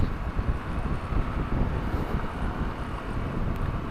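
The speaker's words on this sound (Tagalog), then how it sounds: "Sana hindi nyo naririnig yung hangin, no?" Heavy, continuous wind buffeting the microphone on a night motorcycle ride from Pilar to Legazpi in Bicol, a loud dense roar with no breaks.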